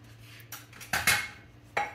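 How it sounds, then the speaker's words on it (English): Spoon or ladle clinking against a pot while stirring thickening potato soup with salt and pepper, a few sharp metallic knocks and scrapes at close range, with no talk. "now we're going to stir this really good and get this in here"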